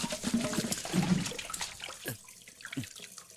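Water splashes and pours in a few quick gushes, as if tipped from a first-floor height onto someone below, with a light trickle and drips afterward.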